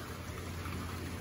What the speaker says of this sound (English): Getting lots of rain.